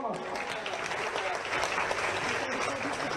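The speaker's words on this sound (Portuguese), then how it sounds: "Uma salva de palmas." Crowd applause at a live outdoor show by a Brazilian priest-singer, a steady wash of clapping for a few seconds with voices mixed in beneath.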